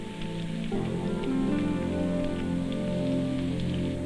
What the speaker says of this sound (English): there were bursts of rain that seemed determined to come through the tents